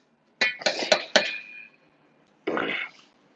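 Pots, pans and metal utensils clinking and clattering in a home kitchen as a large whisk is pulled from under the stove: a quick burst of several close, bright knocks, a pause, then another short rattle.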